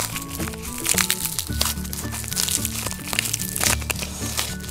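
Plastic packaging around a toy caterpillar accessory for Littlest Pet Shop figures crinkles and crackles up close as it is torn open, with a steady stream of sharp crunches and tears over faint background music.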